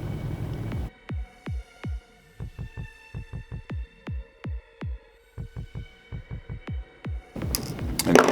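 A drill spins a twisted nichrome coil wire in a long series of short, even bursts, each a close motor whine that starts and stops, with steady gaps between pulses and no talking.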